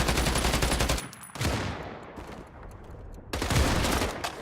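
Kar98k rifle shots among other gunfire in a competitive online shooter match on the Manor House map: a dense, loud volley, then a fading echo tail, and then a fresh burst of close shots.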